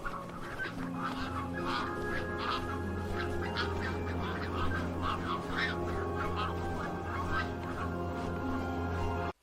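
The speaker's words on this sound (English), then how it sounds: "These are your new friends, the geese." A flock of geese calls in flight, many overlapping honks scattered over a steady low rumble and wind-like noise, fairly distant and continuous throughout, with no talk.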